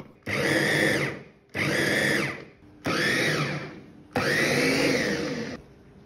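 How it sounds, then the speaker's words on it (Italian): A food chopper chopping garlic and onion whirs loudly in four bursts of a few seconds each, with brief pauses between, close up and without talk. "Per velocizzare metto tutto dentro un trita tutto."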